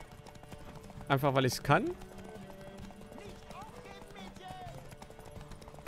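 A horse gallops in The Witcher 3 with rapid, continuous hoofbeats, clip-clopping close and steady beneath someone speaking German, while a short, louder voiced burst rises near the start.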